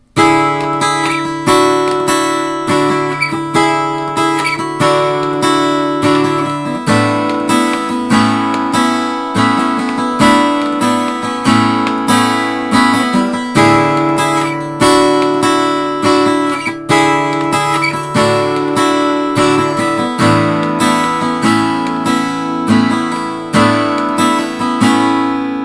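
An acoustic guitar strums a beginner-to-intermediate verse chord progression straight through, steady rhythmic strokes ringing out loud and close for about twenty-five seconds with no voice.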